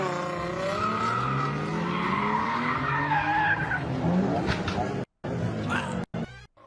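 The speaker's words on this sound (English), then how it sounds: "he's trying to like initiate a drift on a 2-lane road" A car tries to drift on a two-lane road, tires squealing loudly in long rising and falling skids as the engine revs, with excited voices talking over it before a sudden cut near the end.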